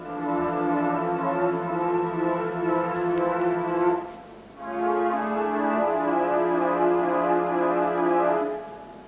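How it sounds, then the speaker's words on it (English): A sustained synthesizer drone with layered harmonic tones, a brief dip near the middle before the chord swells back, steady and loud with no voices. "put them in a synthesizer part which sounds like this"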